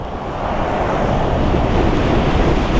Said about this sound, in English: And we're hitting the wind again.